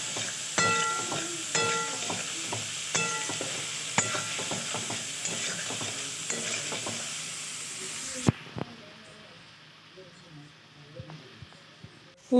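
Vegetables stir-frying with spices in a pan for egg chowmein, a steady sizzle broken by regular scraping and stirring strokes, then a quieter stretch with a few clinks while someone talks.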